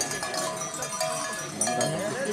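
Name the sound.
bell ringing on a goat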